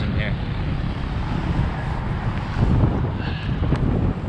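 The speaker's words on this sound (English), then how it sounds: "It's a little bit windy, so hopefully it's not affecting the microphone at all" Wind at night by the water near a bridge, a constant loud rumbling buffet across the microphone that swells slightly toward the end, masking everything else.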